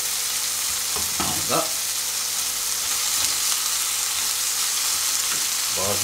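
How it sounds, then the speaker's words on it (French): Thinly sliced chicken frying steadily in a pan, a loud continuous sizzle with a few scraping stirs, while someone says a single word at the start. "Là je vais rajouter mon émincé de volaille, je l'ai émincé pas trop épais"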